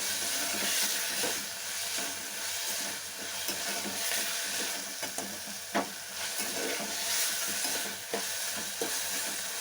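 Tomato frying in a pan: a continuous sizzling hiss broken by repeated sharp scraping taps of stirring, close and moderately loud, with no speech.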